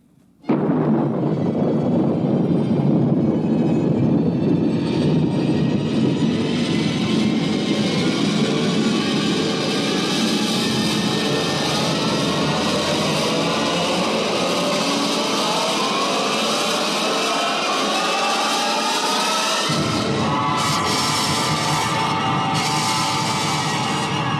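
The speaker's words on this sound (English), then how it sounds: "Countdown for blast off." A rocket blast-off effect for a science-fiction radio drama, a sudden deep roar that swells into a sustained rumbling thunder. It shifts in tone about two-thirds through, loud and alone with no voices.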